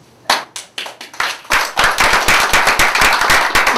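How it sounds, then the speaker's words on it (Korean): Applause at a party members' convention of a provincial party branch: a few scattered claps quickly swell into loud, dense, continuous clapping from a crowd, with no talking. "박수를 보내주시기 바랍니다"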